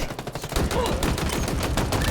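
A short, dense volley of gunfire from a weapon in Halo Infinite, rapid shots running together loud and close for about two seconds.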